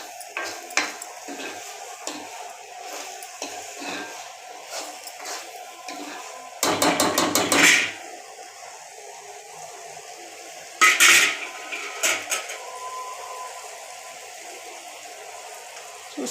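A spoon stirs tomatoes into a seasoning of cooked broad beans in a pan. Soft scraping and faint sizzle run throughout, broken by two louder bursts of clattering metal against the pan, with no voices.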